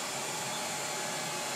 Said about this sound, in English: air dryer going that's cooling